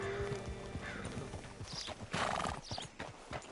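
Horse hooves clip-clopping in a steady trotting rhythm in the video game Red Dead Redemption 2, fairly close, with a brief whinny and some background game ambience.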